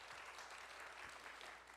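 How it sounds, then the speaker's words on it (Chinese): A church congregation at a Sunday worship service in Kaohsiung applauds to welcome a newly baptized member: a faint, steady wash of many hands clapping, distant and continuous throughout. "我们再次的拍手来欢迎他"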